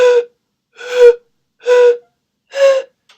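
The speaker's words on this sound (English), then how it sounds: "I'm just going to demonstrate playing the pan flute" Pan flute blown in four separate breathy notes, each lasting about a quarter to half a second with short gaps between, close, loud and airy, with no speech.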